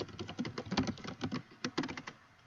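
Quick bursts of typing on a computer keyboard, close and fairly soft, with uneven rhythm and brief pauses between runs of keystrokes, and no voices.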